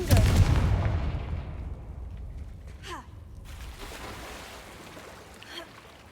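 In the Hogwarts Legacy video game, the Confringo blasting spell goes off as a loud, close explosive boom that rumbles and fades over several seconds, followed by faint magical whooshes.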